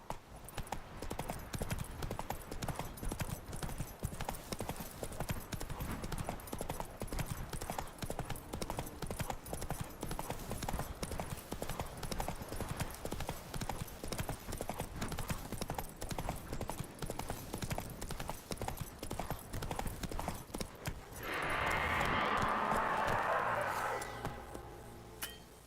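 Hooves of Roach, Geralt's horse in The Witcher 3, beat a steady galloping clip-clop under game music and ambience throughout, and a brighter rushing burst rises near the end.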